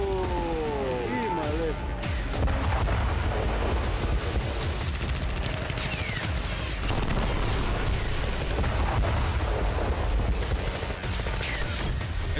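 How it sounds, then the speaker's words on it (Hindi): An Israeli army bombardment in Khan Younis, Gaza brings dense, continuous cracks, booms and crackling gunfire at varying distances, with a voice talking over it throughout. "इजरायली सेना की बमबारी में खान यूनिस बुरी तरह से जल रहा है।"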